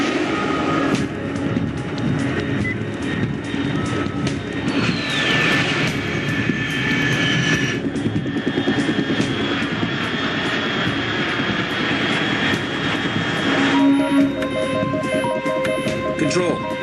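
Jet aircraft engine roar in Metal Gear Solid 3: Snake Eater, a steady loud broadband drone holding throughout with a rising whine partway, under game voices and radio chatter.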